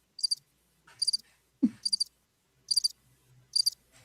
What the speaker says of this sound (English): I have a cricket sound effects on the little device over there